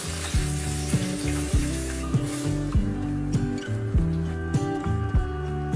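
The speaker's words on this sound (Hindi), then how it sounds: "अब ये देखिए हमारी ग्रेवी बबलिंग पे आ चुकी है" Paneer gravy made with yogurt bubbles and sizzles steadily in a pan, broken by regular soft thumps and scrapes of a spoon stirring it, close up and with no talking.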